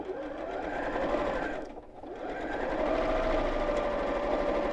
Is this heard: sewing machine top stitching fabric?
yes